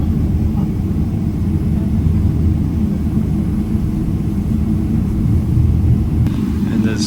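Inside the cabin of an ANA Boeing 777-300ER before takeoff on the Haneda to Chicago O'Hare route, a steady, loud low rumble of engines and air fills the space with little change throughout.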